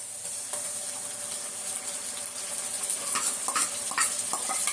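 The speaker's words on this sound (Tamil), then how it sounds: "இப்போ இந்த அரைச்ச மசாலாவை இதில் நம்ம போட்டுக்கலாம்." Ground masala with onions goes into a generous amount of hot oil for egg kuzhambu, giving a steady close sizzle with occasional stirring clinks and scrapes.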